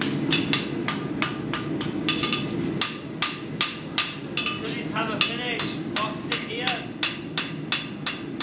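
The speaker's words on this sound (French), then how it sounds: "une épreuve où le fer est fini au marteau" A farrier's hammer forges an iron horseshoe by hand, finishing a plain stamped front shoe at a farriery competition. Steady, evenly spaced ringing strikes of metal on metal, close and loud, about two per second.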